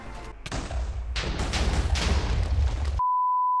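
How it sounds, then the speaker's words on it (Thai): TNT blast in a Touhou fan video game, a loud booming explosion with crackling debris rumbling for about two and a half seconds before cutting to a steady test tone. "ระเบิดตูม"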